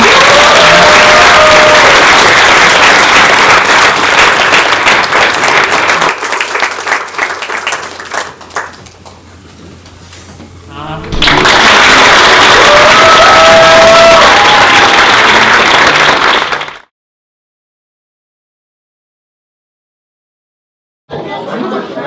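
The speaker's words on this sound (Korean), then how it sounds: "박수 한번 쳐주시죠." Wedding guests applaud and cheer during a ring exchange, a loud, dense crowd roar that dips briefly in the middle, surges again, then stops abruptly into silence.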